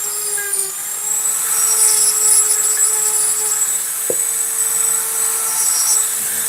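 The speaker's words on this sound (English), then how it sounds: "the round burr definitely does its job cutting" A round burr cutting into wood of uneven hardness: a high whining rotary tool tone with steady harmonic hum, close and continuous, with one brief sharp click partway through.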